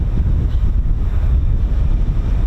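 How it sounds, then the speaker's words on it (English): Wind at RAF Marham airfield buffets the microphone in a constant, loud, low rumbling roar, with no voices or other sounds standing out. "Bit on the windy side."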